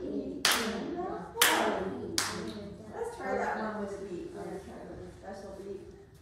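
Sharp hand claps in a music class, three loud claps spaced about a second apart, followed by softer overlapping talk and background voices.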